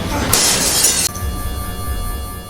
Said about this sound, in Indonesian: Mereka memutuskan membobol mesin itu demi bertahan hidup.